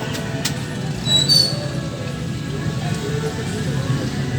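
Steady rain patters on a surface at a street food market in a continuous wash, with a low background rumble and faint clinks nearby.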